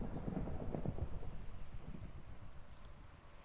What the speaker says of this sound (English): Man, that's a really active thunderstorm.